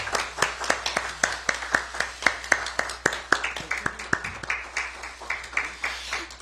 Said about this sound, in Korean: 입혀주실 때 큰 박수 부탁드리겠습니다.